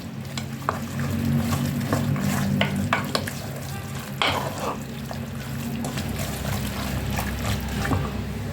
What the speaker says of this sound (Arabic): كنخلطو كلشي وكنديروه يتقلى